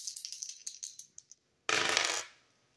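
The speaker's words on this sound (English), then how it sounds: "rolling the dice to see what I need to shuffle the deck to" Dice clatter and bounce in a series of quick, shrinking taps, then a short harsh rattle and slide that fades out.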